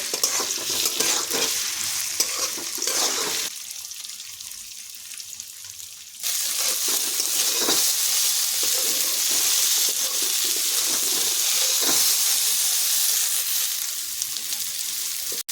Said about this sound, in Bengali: সোয়াবিনটা এখন ভালো করে ভেজে নেব।